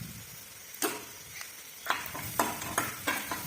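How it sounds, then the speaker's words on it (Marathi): Chopped garlic, ginger and a little coconut being sautéed in a pan, giving a soft sizzle with several sharp scraping stir strokes in the second half, close and moderately loud with no talking. "ते पण चांगलं परतून घ्यायचं"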